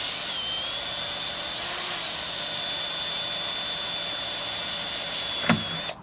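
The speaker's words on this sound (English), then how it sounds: "So to get a rivet out once it breaks, just drill the middle, Rodney." Power drill boring out the middle of a broken rivet during an RV camp kitchen door installation, a steady high whine held for several seconds, ending with a brief clunk.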